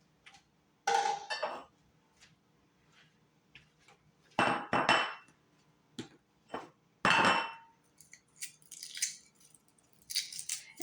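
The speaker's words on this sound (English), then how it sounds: "I'm just prepping right now, peeling the eggs" Eggs are peeled while prepping a Creole chicken wing boil: sharp cracks and clinks of shell tapped on a hard surface come in scattered bursts, some loud and close, with crinkly rubbing between them.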